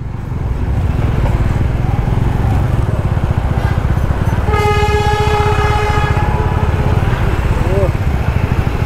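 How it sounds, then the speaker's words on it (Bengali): The Darjeeling toy train passes close by, its wheels clattering in a dense rhythm, with a long, loud horn blast in the middle and people's voices faintly underneath. "দার্জিলিংয়ের টয় ট্রেন, সেই বিখ্যাত টয় ট্রেন প্রায় 100 বছরের উপর দিয়ে সবাইকে নিয়ে যাচ্ছে"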